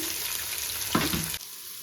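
Mint leaves and green chillies fry in hot oil for mutton dum biryani, with a close hissing sizzle that flares into a brief, louder burst before cutting off abruptly.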